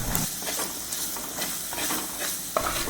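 Long-bean (vanpayar) curry sautéing in a pan with curry leaves and salt gives a steady close sizzle, with soft scraping stirs throughout and no voices.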